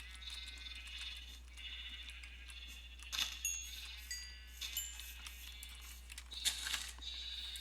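Sheep in the Minecraft video game bleat in a couple of short, faint calls over a quiet, steady background hum, with no talking.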